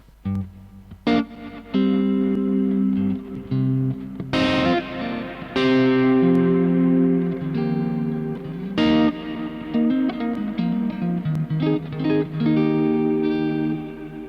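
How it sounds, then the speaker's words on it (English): Electric guitar played through a Kemper Profiler delay preset with reverb: sustained chords and picked notes ring out with quick echoing trails and an ambient wash, loud and alone. "that one's always got a reverb thing going on."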